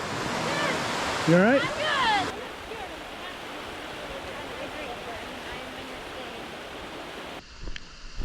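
River water rushing during an off-road river crossing in Iceland, a steady broadband wash of flowing water close by, with a brief spoken voice and a short whistle-like sound over it early on.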